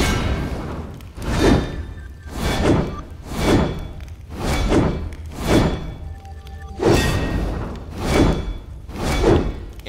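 Heavy melee cone attacks in The Secret World, a steady series of about eight loud, booming whooshing impacts arriving roughly once a second, each with a crunchy, shattering tail.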